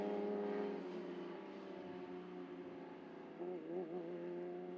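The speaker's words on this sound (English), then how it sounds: "the cars coming into Parc Ferme." Porsche Sprint Challenge Iberica race cars roll into parc fermé at Circuito Ricardo Tormo in Valencia, engines droning steadily at low revs with a brief rev near the end, moderately near.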